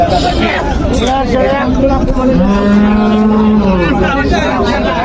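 Cattle at a livestock market in Panchbibi where bullocks and buffalo are traded: a loud, drawn-out moo rises in the middle, near and clear, over constant crowd babble and people talking.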